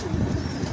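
A pigeon coos in a steady, soft, low throaty murmur, close by and continuous with no pauses, in a setting where pigeons are kept and paired for breeding.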